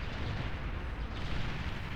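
Seaplanes drop bombs in the strategy game Beyond All Reason, producing a dense, continuous roll of overlapping explosions and heavy rumbling with no pauses.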